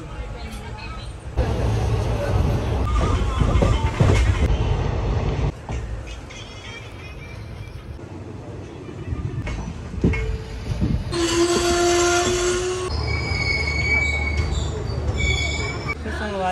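A train arrives at Yesvantpur railway station in India, its rumble and clatter loud and near, with brakes squealing in high tones near the end and people talking nearby.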